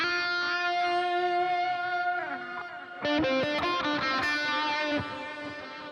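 Electric guitar played through a Headrush processor with a reverse delay effect: sustained notes that swell in backwards, followed by a burst of layered, chorus-like repeats, alone without talk.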